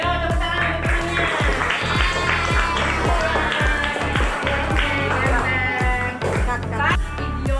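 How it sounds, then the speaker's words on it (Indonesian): Children in a classroom clap for a classmate, a fast, steady run of loud, close claps lasting several seconds, with voices mixed in. "Ayo tepuk tangan untuk temannya."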